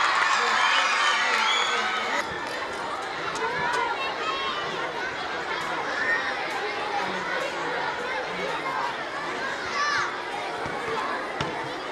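A crowd at a singing and dancing talent show claps and cheers, with noisy chatter, shouts and whistles blending into a loud continuous hubbub.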